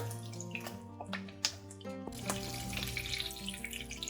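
Salmon patties wrapped in fish skin frying in a pan, with close crackles and pops over a steady sizzle. The sizzle swells louder partway through and keeps going with no one speaking.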